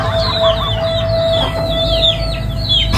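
Chickens clucking and a rooster calling over a steady farmyard din, with a short high tone running through the middle.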